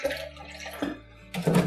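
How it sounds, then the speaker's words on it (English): Milk is poured into a Milwaukee tumbler, a close, gurgling liquid stream that rises in pitch as it fills. It pauses briefly, then resumes louder. "So let's pour some milk in here so you can see it easier."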